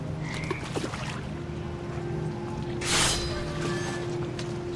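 Toads croaking in the video game What Remains of Edith Finch, with repeated close croaks over a steady ambient background and a brief louder whoosh partway through.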